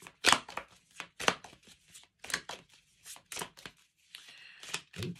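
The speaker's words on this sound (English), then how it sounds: "Let's give them a little shuffle." A deck of tarot cards is knocked and shuffled at close range, with a series of sharp, separate raps followed by a softer riffling shuffle and a final tap, all quiet and alone.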